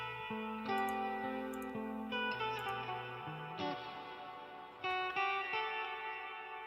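The same guitar sample returns run through effects, its plucked melodic notes smeared with reverb, echo and slight distortion, sustaining into a washy tail at moderate level, with no voices.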